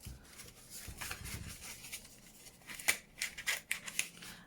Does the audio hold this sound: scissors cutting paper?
yes